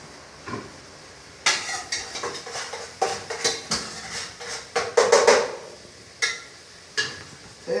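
Onion and garlic cook in a pan while a utensil stirs and scrapes, giving a series of sharp clinks and knocks over a faint background sizzle.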